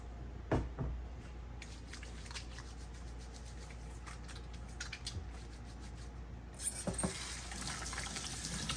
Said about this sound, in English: now all let's wash my hand